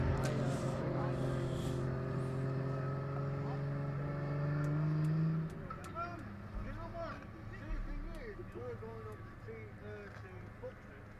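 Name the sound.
drift cars driving onto track, engines revving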